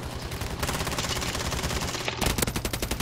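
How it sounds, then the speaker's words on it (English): Rapid SMG spray fire in a shooter video game: a dense, continuous burst of rattling shots, loud and sustained, with a brief break before a second volley. "I sprayed him with an SMG"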